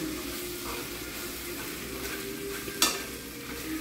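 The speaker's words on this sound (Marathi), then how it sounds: "पहिल्यांदा इथे मिक्स करून घेऊ आपण थोडं, त्याला चम्मचने काढून घ्यायचं" A spoon stirs cooled pasta, making a soft, quiet scraping and sticky mixing texture close up, with one sharp clink near the end.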